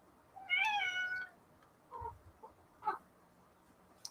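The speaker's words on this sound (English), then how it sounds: "Cat." A cat meows once clearly at close range, followed by a few softer, shorter chirps and mews against a quiet room background.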